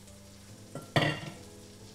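Onions dropped into a pan of melted butter set off a sudden loud burst of sizzling that quickly settles into a steady, softer frying hiss.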